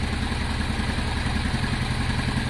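A Honda Deauville motorcycle engine runs steadily after a carburettor clean, a close, even, pulsing idle with a mechanical clatter and no talk over it.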